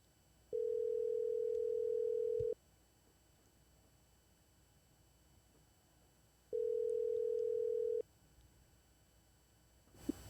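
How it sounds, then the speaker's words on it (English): Telephone dial tone heard while placing a call, two steady sustained tones each about two seconds long with a long silent gap between them, clear and alone with no talk. "Let's phone her right now."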